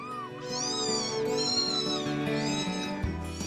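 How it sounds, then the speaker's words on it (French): Several cats meow continuously, overlapping high drawn-out cries rising and falling, close and fairly loud with no talking. "ce sont des miaulements qui parviennent aux oreilles des habitants"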